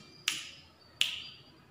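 Two sharp finger snaps ring out about three-quarters of a second apart, crisp and close in a quiet room.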